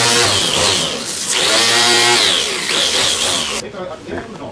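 Power tool grinding metal on a car body panel during plug-weld repair work, a loud continuous high whine that surges and falls, with a person's voice running over the noise until the tool abruptly stops near the end.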